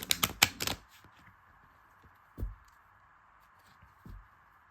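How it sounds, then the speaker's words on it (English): A quick flurry of crisp clicks as playing cards riffle together, followed by a few sparse soft taps while the deck settles. "These cards are so hard to shuffle."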